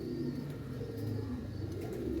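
A pigeon in a keeper's loft coos softly, low repeated rolling calls against a faint steady background hum.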